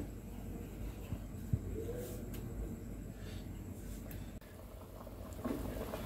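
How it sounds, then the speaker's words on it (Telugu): Water bubbling at a steady boil in a pot with coriander and mint, a continuous soft gurgle with a few small pops, fairly close and quiet. "చక్కగా మరిగిపోతుంది కదా"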